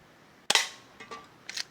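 A steel air gun fires once with a loud, sharp, close crack, followed by several fainter mechanical clicks and clacks in a quiet room.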